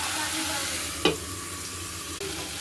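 Bottle gourd peel and other vegetables fry in a pan, a soft steady sizzle with a single stir-like scrape and a brief clunk near the end.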